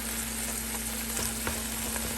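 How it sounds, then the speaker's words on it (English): Sautéing in olive oil in a pan gives a steady, close hiss and crackle with a few soft scrapes, heard briefly and without voices. "And I'm just going to saute this"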